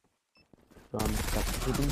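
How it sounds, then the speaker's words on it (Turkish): Gunfire bursts out in the online shooter Zula during a competitive esports match. Rapid shots come in dense, loud volleys after a quiet start, with a commentator talking over them. "smoke için vurdu Crossfire'ı ama smoke'tan arkasına geçen Equinox'ta Steelforge indirmeyi başardı"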